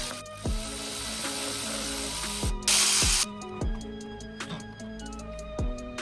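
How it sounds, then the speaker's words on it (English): An electric ratchet works lug nuts on a GR Corolla wheel, giving short whirring bursts mixed with sharp metallic clicks and taps, and one brief hissing burst partway through, all close and fairly quiet. "now we're just going to use an electric side ratchet."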